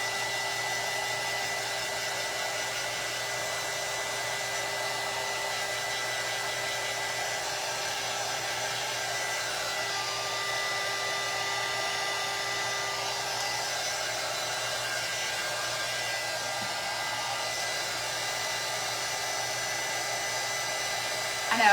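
A hair dryer runs steadily for about twenty seconds, drying paint on a craft project, with a constant close-up whirring roar and no break in the airflow.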